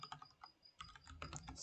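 Rapid keystrokes on a computer keyboard typing hint text, a quick irregular run of clicks that pauses briefly then resumes more densely, close and fairly quiet with no voice.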